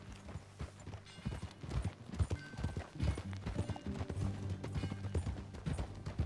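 Horse hooves in a video game clop in a steady walking rhythm, close by, over a low tonal background with scattered knocks and rustles.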